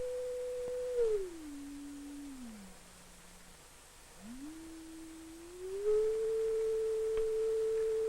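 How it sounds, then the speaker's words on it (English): A pure tone from an audio oscillator in a lecture demonstration on sound waves in air holds steady, glides down in steps to a low pitch, drops out briefly, then sweeps back up to its original level. "We'll generate the tone in this oscillator."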